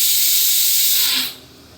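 Pressure cooker cooking rice lets out a strong, close steam hiss that holds steady and then cuts off sharply near the end.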